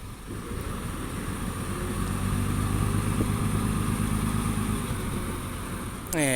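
A tractor engine works at a large landfill site, pushing soil spread by ten-wheel dump trucks. The engine drones steadily and close with a low rumbling throb and rises slightly in load midway, with no talk.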